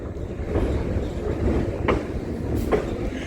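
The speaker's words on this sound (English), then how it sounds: "Steam train." A steam train rumbles past close by, a heavy continuous roar with rhythmic clanking of wheels on track.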